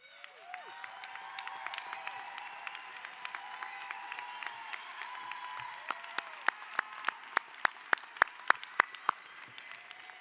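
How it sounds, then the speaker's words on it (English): Audience at a Merritt College graduation ceremony gives the faculty a modest round of applause, scattered claps that thin out toward the end into a few distinct, sharp individual claps. "I'd like our faculty to stand up so we can give them a little applause"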